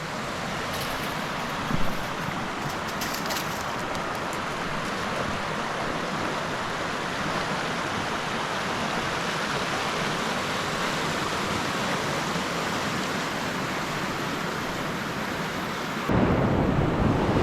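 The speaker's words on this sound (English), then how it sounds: "right over there is a nice little waterfall" Small waterfall spilling over bedrock in a creek, a steady broadband rush of falling water, loud and close, continuous throughout with a brief bump near the start and a slight change at the end.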